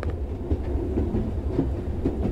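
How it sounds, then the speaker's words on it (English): A modern train ride in the horror video game Hololive Error, with a continuous low rumble and rolling wheels clacking softly over rail joints, steady throughout with no voices. "Okay, now it's the train."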